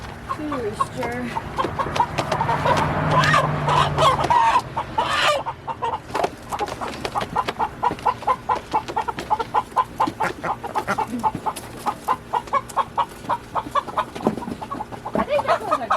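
Roosters and hens at a poultry round-up, clucking and crowing in a busy, close jumble, with loud handling noise early on and steady clucking throughout.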